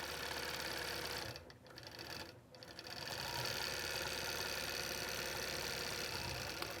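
Sewing machine running steadily while stitching a piano key quilt border, a continuous mechanical hum that briefly slows twice before speeding back up, close and alone.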